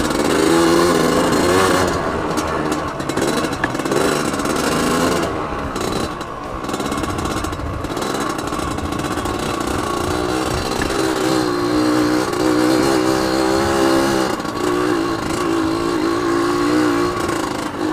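A Yamaha RX Special two-stroke motorcycle revs steadily on a test ride, its loud buzzing engine note sustained throughout with small rises and dips in pitch and no talk.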